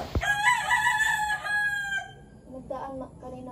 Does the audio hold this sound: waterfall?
no